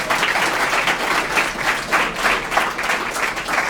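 A hackathon presentation audience applauds, steady dense clapping from a large crowd filling the room with no voices on top.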